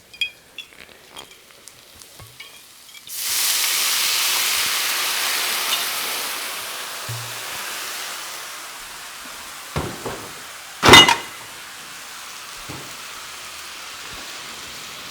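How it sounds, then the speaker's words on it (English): Wine hits a hot pan of garlic with a sudden loud hiss that settles into steady sizzling, close by, preceded by quiet kitchen clinks and followed by a few knocks of utensils. "So now we can deglaze with some wine."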